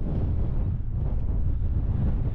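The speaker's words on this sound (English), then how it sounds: "it is windy today" Strong wind of 30 to 40 mph buffeting the microphone on Tryfan's north ridge, a continuous loud low roar with gusty fluctuations and no voices.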